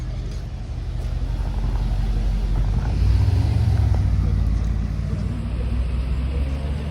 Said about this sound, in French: Oh, la nouvelle Vantage